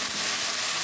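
Chili and tomato hiss and crackle in a hot stir-fry pan for a mustard-greens and egg stir-fry, a steady dense sizzle throughout with no talking.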